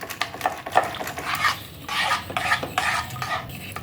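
Mawa mixture being whisked in a pan while making besan mohanthal barfi, soft rhythmic scraping and clinking strokes at close range, fairly quiet, no talking.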